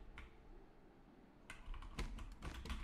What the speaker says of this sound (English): You guys can hear every single keyboard and click I make.